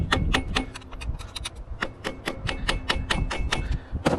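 A hammer drives a flathead screwdriver against the edges of a Nissan Altima motor mount in a quick series of sharp metallic taps, irregular but rapid, close and distinct throughout.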